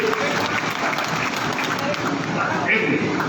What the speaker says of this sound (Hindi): बार तालियां बजाओ इनके लिए